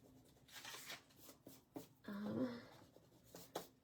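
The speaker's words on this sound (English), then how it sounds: "Let me erase this here." An eraser rubbing on scrapbook paper, heard as soft scratchy friction strokes, close and quiet, with a longer rubbing burst in the middle.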